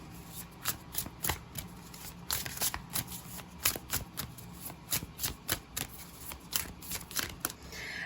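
Tarot cards being shuffled by hand, a steady run of crisp riffling flutters and soft slaps, close and fairly quiet, with no talking.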